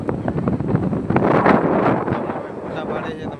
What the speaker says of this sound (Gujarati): દરિયાકાંઠે તમને પવન ફૂલ લાગતો હશે